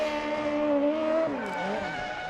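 At Irwindale Speedway, a car doing a burnout gives a sustained tire squeal with a wavering, shifting pitch over engine roar, heard at a moderate distance and fairly faint, with no voices.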